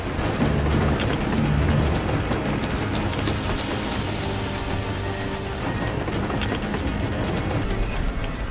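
A train in the video game Metro Exodus clanks and rattles, dense mechanical grinding and ratcheting metal noise with steady low rumble, continuous and close, without speech.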